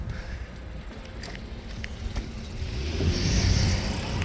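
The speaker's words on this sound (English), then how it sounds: "car is coming. I should stop." A car approaches and passes along a road, a low engine rumble building steadily and loudest toward the end, heard from roadside while cycling, with no talk.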